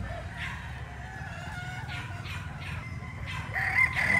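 A Boston Millionaire gamefowl rooster crows among farmyard clucking, its call rising clearly near the end over a steady low background hum.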